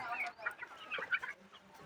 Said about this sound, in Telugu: ఈ కోళ్ళు చూడండి ఫ్రెండ్స్ మొత్తం గుంపు